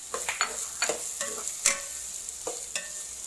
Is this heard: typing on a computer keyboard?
no